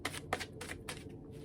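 A deck of tarot cards is riffled several times in quick, quiet bursts, crisp and close up.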